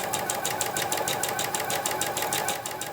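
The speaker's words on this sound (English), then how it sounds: "it's very easy to complete the stitching with the guide in place" A sewing machine stitches steadily along the raw edge of tote bag fabric with a guide attached to the presser foot, its needle thumping in a fast, even rhythm that stays close and constant throughout.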